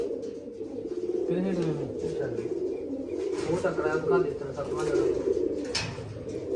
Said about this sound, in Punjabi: ਮੰਨੇ ਵਾਲਾ ਕਬੂਤਰ ਆ ਬਈ ਤੇ ਆ ਘਰ ਦੀ ਕਬੂਤਰੀ ਹੈ